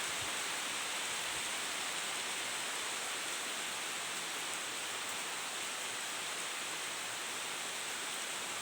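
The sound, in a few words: heavy midday rain with wind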